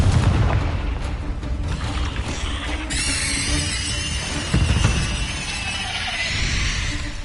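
Confringo explosive spell blasts go off in Hogwarts Legacy combat, loud rumbling booms that come again and again over a constant wash of game noise.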